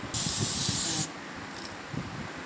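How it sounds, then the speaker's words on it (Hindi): A Red Chief suede and nubuck shoe spray can lets out one steady, loud hiss lasting about a second, followed by quieter handling noise. "देखिए ये स्प्रे निकल रहा है।"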